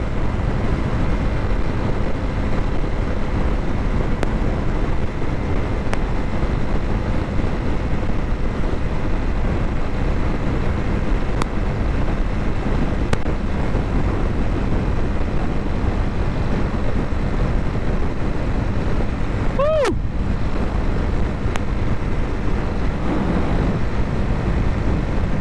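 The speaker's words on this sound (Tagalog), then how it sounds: "So palakas ng hangin mga kamotobike." Strong wind roars steadily against the rider on a Honda CB300R motorcycle cruising on a highway at around 100 km/h. A constant, loud buffeting rush fills the whole stretch, and a brief whistling sweep cuts through near the end.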